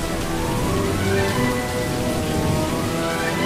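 A storm with heavy rain and wind roars as a dense, continuous hiss of rainfall with low rumbling underneath, steady and loud, with no voices.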